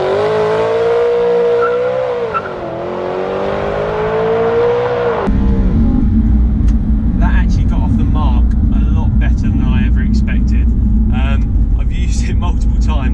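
A BMW E92 M3 holds a steady high rev on launch control, dips briefly, then launches hard into a loud roaring acceleration with road and wind noise, recorded from inside the car.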